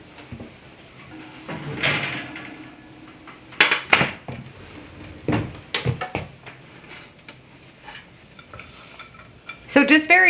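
Spoon stirring sweet potatoes with honey, butter and pecans in a baking dish, heard as a few scraping, clattering strokes with soft sizzling between them, close and fairly loud with quiet gaps.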